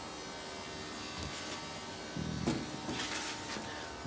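An electric fuel or oil pump on a flow controller runs at high flow, a steady buzzing hum with faint mechanical clicks and knocks near the middle.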